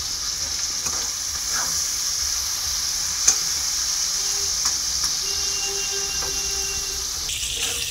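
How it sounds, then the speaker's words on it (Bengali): Cauliflower fries in oil in a kadai (wok), giving a steady close sizzle with soft scraping stirs and a few faint clicks throughout. "এখন ফুলকপিটা ভাজা হচ্ছে।"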